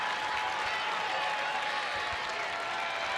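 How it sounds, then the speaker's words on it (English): Crowd at a Rangers home baseball game against the Angels claps and cheers steadily, a dense wash of applause filling the stadium, with a few louder claps standing out. "Crowd trying to get behind Joe Nathan and the Rangers."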